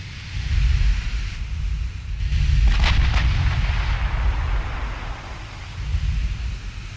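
Naval shells bounce off armour in the warship game Ultimate Admiral Dreadnought, heard as deep, rumbling booms and a short sharp ping under continuous roaring battle noise.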